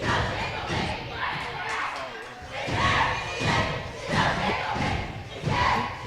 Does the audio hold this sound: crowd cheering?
yes